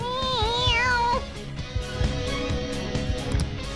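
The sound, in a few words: cat meowing, Mona in Persona 5 Royal video game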